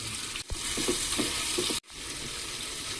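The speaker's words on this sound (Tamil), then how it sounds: "வெங்காயம் வதக்க விட்டு நம்ம தக்காளி சேர்த்துக்கலாம்." Onions sautéing in oil with mustard seeds in a pan for tomato rice, a loud continuous sizzle broken by a few stirring scrapes and two brief gaps.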